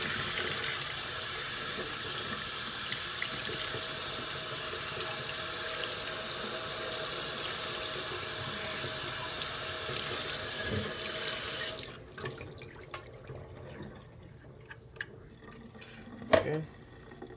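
Tap water pours steadily through an aquarium pump to flush out debris while a snapper tank is cleaned, a continuous close splashing rush that stops abruptly, followed by a few faint drips and clunks.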